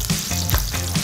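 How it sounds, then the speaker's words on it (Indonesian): Spice paste sautés in a hot pan with a dense, close sizzle and crackle for a moment, with a soft stirring scrape and no voices. "Tumis bumbune sampai harum."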